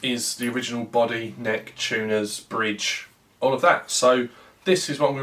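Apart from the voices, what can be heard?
No distinct noise like a dog, phone or traffic.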